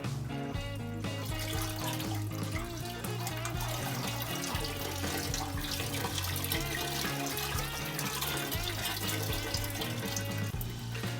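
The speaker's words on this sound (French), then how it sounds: "on va le rincer avec de l'eau un petit peu pour essayer d'aller chercher un petit peu tout le liquide qu'il peut y avoir dans les drèches" About a litre of water poured over a bag of spent brewing grains to rinse out the remaining wort, a continuous loud splashing flow with no pauses.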